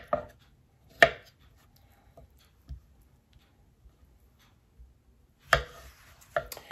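A knife chops papaya on a cutting board, giving a few sparse, sharp thuds spaced irregularly, close and crisp, with quiet pauses between cuts.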